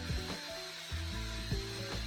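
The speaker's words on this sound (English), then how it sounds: "I ended up softening the edges with a round over bit" A router fitted with a round over bit whines steadily while softening wooden edges, its tone shifting as the cutter bites, with brief scraping pulses as the tool moves along the wood.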